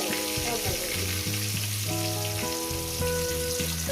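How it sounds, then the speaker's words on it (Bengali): Potato pieces frying in hot oil in a pan for a cauliflower chicken curry: a dense, continuous sizzle with some stirring, heard under steady background music. "আলুগুলো দিয়ে দিলাম আলুগুলো আমি ভালো করে লাল লাল করে দেবো"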